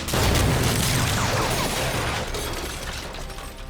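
Bomb blast in a wartime headquarters hut, a loud booming burst with crackling, shattering debris that rumbles on and slowly fades, alone without voices.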